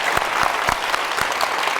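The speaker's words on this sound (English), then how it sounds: "give a last very warm round of applause" A warm round of audience applause follows a live interview with Tori Amos, thick continuous clapping close and loud, with a few sharper individual claps standing out.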